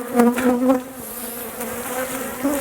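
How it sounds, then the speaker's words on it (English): Honeybees swarm around an open hive, a loud close droning buzz with individual bees swooping past the microphone, rising and falling in pitch. "It'll minimize the amount of aggressive bees that come out attacking you."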